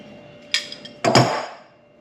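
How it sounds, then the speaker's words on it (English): An adjustable wrench working the big nut on the back of a leaky air compressor: a sharp metallic clink, a couple of light taps, then a louder ringing scrape of steel on steel that fades out. "With our adjustable wrench, we're going to loosen up the big nut on the back."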